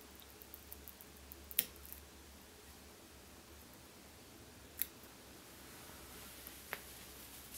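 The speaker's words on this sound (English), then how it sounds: "And we can come in with our scissors" Small scissors trim the deer hair wing of a hair wing dun fly at the tying vise, making three faint, sharp snips spread across a quiet background.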